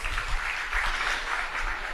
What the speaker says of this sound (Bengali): তার জন্য একটা করতালি হবে প্লিজ